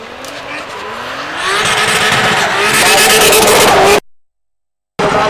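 A drift car's Nissan RB engine screams at high rpm into a corner during a DLGB drift qualifying run, a loud, sustained rising wail with tyre noise that cuts out abruptly near the end.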